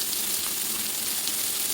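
Onions sautéing in a pan with turmeric powder and jaggery give a steady, close hiss of frying that holds even and unbroken with no voices.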